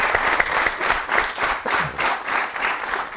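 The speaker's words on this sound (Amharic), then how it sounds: "አንድ ጊዜ አጨብጭቡልኝ።" An audience claps steadily in a hall, a dense, even applause with soft rhythmic swells, close and fairly loud, with no talk over it.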